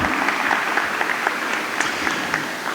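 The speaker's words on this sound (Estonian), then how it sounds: "Maarjale aplausi ka" Warm applause from a small audience at an environmental talk for speaker Maarja Õunaste, steady clapping with distinct individual claps at moderate volume.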